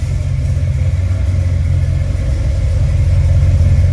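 A 1972 Chevrolet C10 short bed pickup truck's engine runs steadily, a loud, close, low rumbling idle that holds even throughout with no voices.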